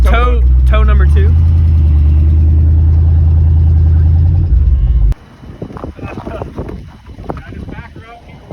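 A car stuck on ice during a Texas ice storm, its engine roaring loudly and steadily as it backs up under tow for about five seconds, then cutting off abruptly, followed by wind and people talking.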